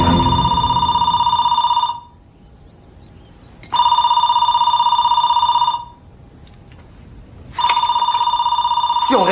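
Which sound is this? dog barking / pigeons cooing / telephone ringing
telephone ringing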